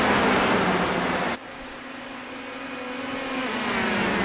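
Open-wheel race cars launch off the start at Watkins Glen International in a sim racing game, a loud engine roar that cuts abruptly partway through, then a steady whining engine tone that swells again toward the end.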